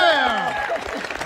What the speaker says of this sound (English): I think we can clap to that, everyone.